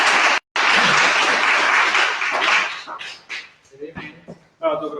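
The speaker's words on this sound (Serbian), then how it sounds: "Ja vas sada pozivam da jednim aplauzom pozivamo našeg predavača." An audience at an evening lecture claps to welcome the speaker. A dense burst of applause fills the first few seconds, then thins into scattered claps that fade into a voice talking.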